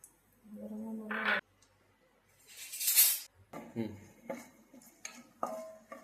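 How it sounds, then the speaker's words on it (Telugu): Whole spices dropped into hot oil and ghee in a pan for fish biryani: a short hissing sizzle surrounded by clinks and scrapes of a spoon on metal, close and moderately loud, with a voice nearby. "ఆయిల్ గీ అయితే హీట్ అయిపోయింది ఇప్పుడు మసాలా సామాన్ వేస్తున్నాం"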